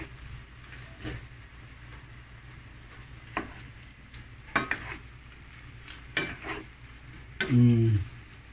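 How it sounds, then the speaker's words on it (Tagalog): Garlic butter shrimp simmering in a pan, a soft steady sizzle with occasional scrapes and stirring clatters of a utensil against the pan. "So simmer for 3 to 4 minutes only."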